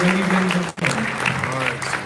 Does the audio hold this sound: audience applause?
yes